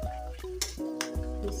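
Spring onions stirred and frying in a pan for Nigerian samosa and spring roll filling, a steady close sizzle broken by a few scraping stirs of the spoon against the pan.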